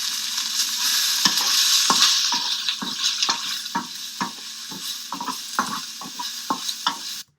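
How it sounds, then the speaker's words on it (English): Steady sizzle of food frying in a pan, with repeated sharp scrapes of a utensil across the metal throughout; close and fairly loud. "that's me adding more food to it and scraping through the pan"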